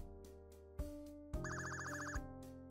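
A telephone rings in the Pizza Game video game, a quiet electronic ringtone playing several repeated chiming bursts with steady tones between them and no voices over it.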